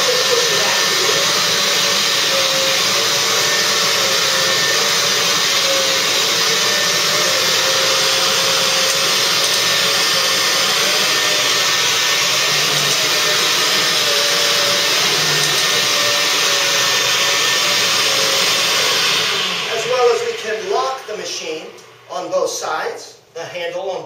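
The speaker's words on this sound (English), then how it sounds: "I'm going to turn on the brushes, and I'm going to turn on the vacuum." A loud vacuum cleaner with its brushes running whines and roars steadily with a constant motor hum, then its sound breaks up near the end as speech comes in.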